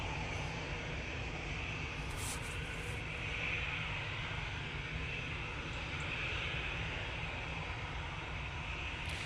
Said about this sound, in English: Next in will be the Ryanair 737 MAX 8 coming in from Dublin.